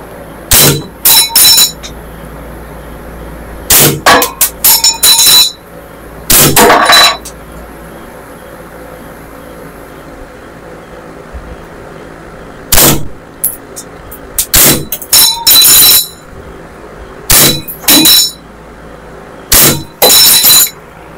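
A Glock 18C airsoft gas blowback pistol fires loud, sharp cracking shots, some single and some in rapid bursts, with short quiet gaps between the volleys.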